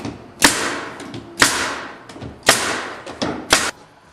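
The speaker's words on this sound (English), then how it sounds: "I put a couple of brads in through the back into the sides just to take a bit of the rattle out" Brad nails driven one after another through the back of a kitchen cabinet drawer into its sides, five sharp nailer thumps at roughly one-second intervals, loud and close with no talk.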